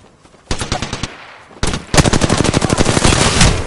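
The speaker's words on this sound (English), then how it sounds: "Shots fired. Shots fired." Automatic gunfire in the Apex Legends video game: a short rattling burst, then a longer sustained stream of rapid shots, loud and close.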